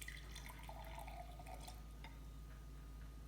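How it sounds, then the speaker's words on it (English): Water poured from a small height into a glass while making homemade rock candy, a soft trickling and dripping stream heard up close, fairly quiet against steady low background hum. "Let's start pouring the water into the glass."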